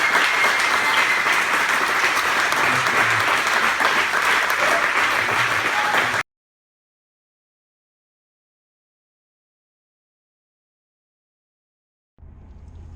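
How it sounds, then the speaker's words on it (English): A church congregation bursts into dense, steady applause for about six seconds before an abrupt cut to silence, with a faint murmur returning at the end. "How about an applause?"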